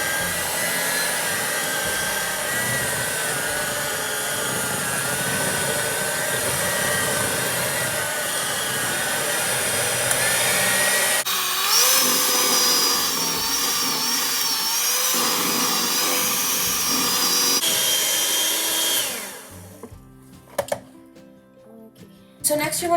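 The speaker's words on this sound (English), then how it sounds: "now I'm just gonna use this mixer to mix it on low" An electric hand mixer running steadily on low speed while mixing powdered sugar, a constant close whirring drone that changes pitch partway through and then cuts off near the end.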